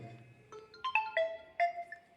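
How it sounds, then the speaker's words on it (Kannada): A phone rings with a short electronic melody of bright, separate tones, set off as a line-to-ground fault alert by a circuit-breaker model at a science exhibition. The ringtone is faint and plays alone. "ಫೋನ್ ಕಾಲ್ ಬಂದಿದೆ"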